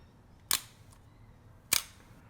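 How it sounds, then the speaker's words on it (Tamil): A DSLR camera set to a one-second shutter gives two sharp mechanical clacks about a second apart as the mirror flips up and then drops back down, close and crisp in a quiet room. "அந்த கண்ணாடி வந்து ஒரு நொடிக்கு மேலே போயிட்டு லாக் ஆகிட்டு அப்புறம் கீழே வந்துச்சு"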